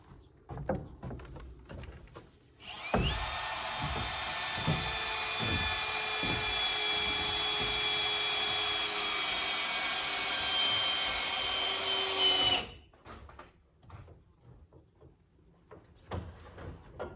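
A power drill drives a screw into a log wall of an off-grid Alaska cabin under construction, a loud, steady whine lasting about ten seconds, preceded and followed by knocks and handling noises.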